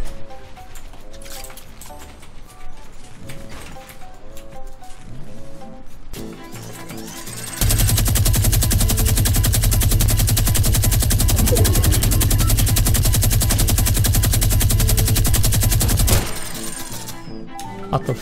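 A minigun in Fortnite fires one long, loud continuous stream of rapid shots lasting several seconds, after quieter game sounds and background music.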